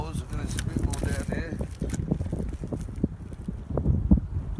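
Gusty wind by a river buffets the microphone in a steady low roar, with people talking and moving about underneath it.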